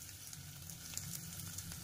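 Chopped eggs fry in oil in a pan, giving a soft, steady sizzle with faint crackles and pops at low volume.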